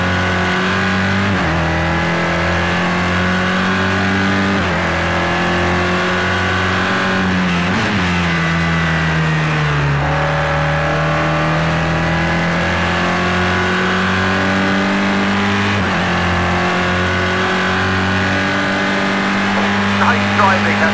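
A Renault Megane BTCC race car at Brands Hatch, its engine roaring loud and close throughout with steady rising and falling revs through gear changes, and a radio voice heard over it.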